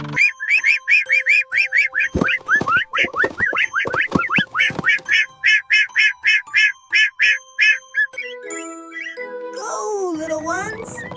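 Cartoon ducklings quack in a fast run of short repeated bursts, followed by some squeaky cartoon sound effects at the end.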